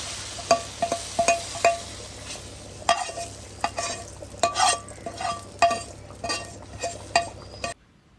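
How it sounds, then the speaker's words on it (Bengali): A spoon stirs beef head meat with dal and onions in a pot, giving repeated sharp metallic clinks and scrapes over a soft, steady sizzle, close and without talk. "নাড়িয়ে চাড়িয়ে নিচ্ছি"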